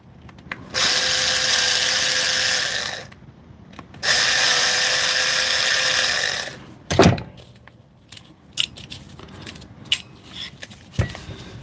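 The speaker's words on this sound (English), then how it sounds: "I'll take these screws all out here." A DeWalt power tool has screws driven out with a drill in two long, steady whirring bursts, close and fairly loud, each lasting a couple of seconds. Sharp clatters and small metallic knocks follow as the screws and parts are handled.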